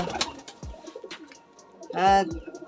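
High-flying pigeons in a loft give a few short throaty coos close by, the loudest one late in the clip, amid scattered faint sounds and voices.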